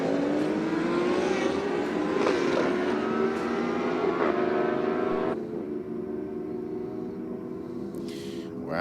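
Two engines roar down a drag strip side by side at the start of a race, a loud rising wail of revving and acceleration that climbs steadily in pitch before dropping off sharply as they pass into the distance.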